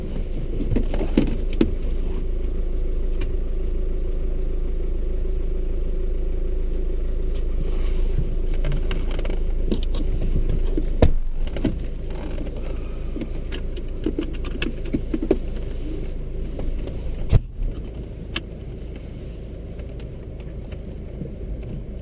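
A car engine drones steadily during a slope avoidance exercise on a driving course, a loud continuous low rumble with wind buffeting and occasional sharp clicks and knocks, no voices heard.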